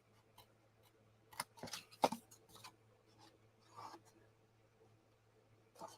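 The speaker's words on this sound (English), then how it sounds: "we're going to cut this out" Scissors snipping through paper while shaping paper flowers, a few quiet scattered cuts and rustles around the middle of an otherwise hushed stretch with faint background hum.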